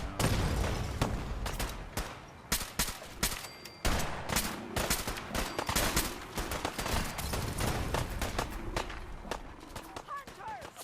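Rapid gunfire in a Fallout 4 Far Harbor firefight, dense bursts and single shots crackling loudly and continuously, with footsteps and running mixed in.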